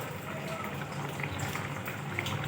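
Rohu fish curry bubbling steadily in a pot on the stove, a continuous soft simmer of small bursting bubbles, close and even with no voices.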